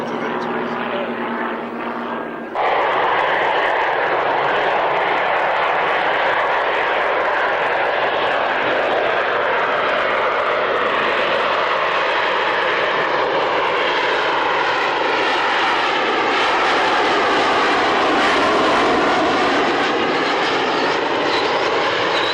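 Jet engine roar from a Harrier flying at the Woodford Airshow, a loud sustained broadband rumble that swells and holds steady for the whole stretch, with a faint voice beneath it.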